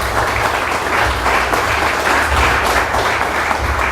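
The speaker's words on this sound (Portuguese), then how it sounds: "Vamos dar uma salva de palmas ao Senhor Jesus." A church congregation claps during a worship service, a loud, close, continuous round of applause with a low hum underneath and no voices.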